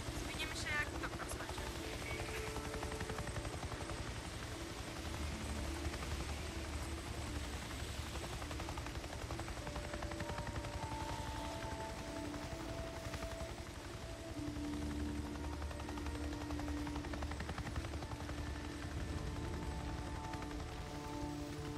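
Helicopter in the Days Gone video game, a low, continuous rotor drone running throughout, mixed with a rain-like hiss and faint game voices.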